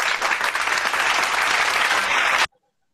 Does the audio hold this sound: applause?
yes